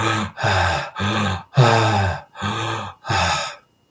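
Six loud, heavy mouth breaths in steady succession, inefficient breathing, each a long rasping inhale or exhale with short gaps between, close and alone.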